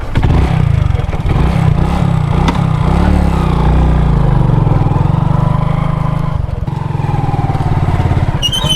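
A motorcycle engine runs loud and close after a kick-start, with a throbbing low rumble, a couple of quick revs near the start, a brief dip, then steady running with clattery mechanical noise.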